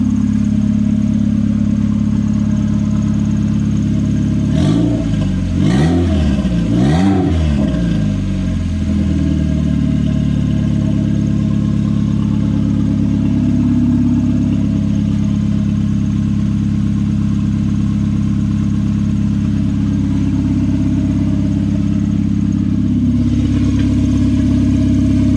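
A car engine revs in a few quick bursts, then settles into a steady, loud idle that runs on without a break.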